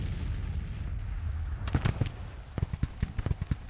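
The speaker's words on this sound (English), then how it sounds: "It looks like they're still firing shell." Artillery fires shells on a Civil War battlefield in Grand Tactician: The Civil War: a low rumble gives way to a ragged run of sharp, booming reports, close and distant, coming in quick irregular succession.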